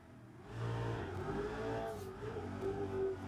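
Car engine revving hard through a drift entry, a steady loud mid-pitched drone that climbs and wavers in pitch as the throttle is worked, close and continuous with no talking.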